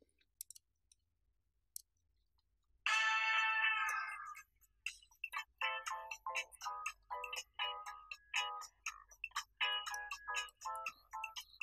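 A mobile phone rings with an incoming call in a quiet home at breakfast, a melodic electronic ringtone starting after a few faint clicks and repeating in rapid, bright, moderately quiet pulses.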